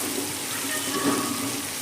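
A steady, fairly quiet sizzle of garlic frying in very hot oil, continuous with no other sounds.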